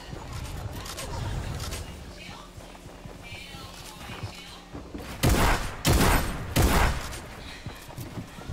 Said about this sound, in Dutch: Waarom schiet mijn wapen automatisch?